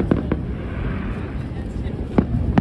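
Outdoor fireworks on a Friday night in Wynwood, Miami, go off as a few scattered pops and bangs over a steady wash of crowd and street noise.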